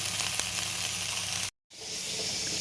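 Cluster beans and coconut fry sizzle loudly in a hot pan as they are stirred, a steady hiss that cuts out briefly and then resumes.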